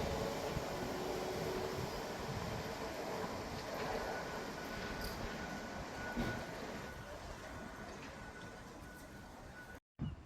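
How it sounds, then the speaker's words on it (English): A ScotRail class 385 train, units 385030 and 385023, pulls out of Edinburgh Gateway bound for Dunblane, a steady, moderate rumble of wheels and motors that fades slowly over about ten seconds and then cuts off. "departing out also is the other 1412 Scotrail service from Edinburgh Waverley to Dunblane"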